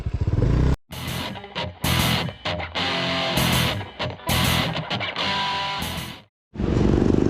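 A rented motorcycle ridden in Palawan roars steadily with engine drone and revving, and several abrupt cuts and dropouts break the loud, continuous ride noise.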